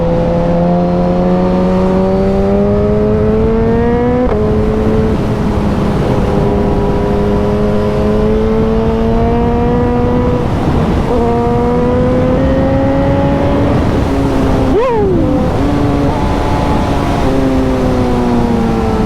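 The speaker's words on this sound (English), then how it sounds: "I love the noise of the downshift on this" A high-performance motorcycle heard from onboard on a ride, its engine note holding steady and climbing through gears, with one sharp pitch drop near the end as it downshifts; loud and continuous with no talk.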